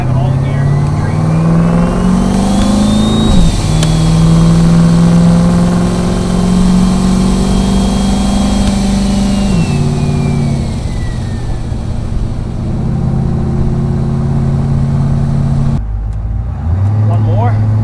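Turbocharged LS-swapped Chevrolet Caprice wagon with a B&M shifter pulling through its gears on a test drive, engine note climbing and dropping with each shift while a turbo whistle rises, loud and close inside the cabin, with someone talking over it.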